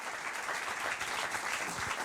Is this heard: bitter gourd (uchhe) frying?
no